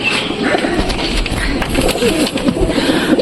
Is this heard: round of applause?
no